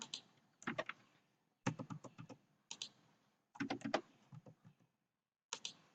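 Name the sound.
typing values into Excel on a computer keyboard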